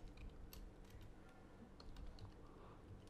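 Soft, quiet keystrokes tap on a computer keyboard in a brief burst against a steady background hum, with no one talking.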